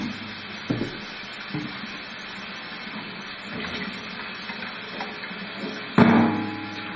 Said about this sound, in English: we're going to wash off the nose cone inside and outside for the same reason